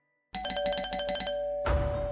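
Doorbell chime ringing inside a home in a Marathi TV serial: a clear run of repeated bright ding tones that starts out of silence, then one long tone lingering under faint room noise.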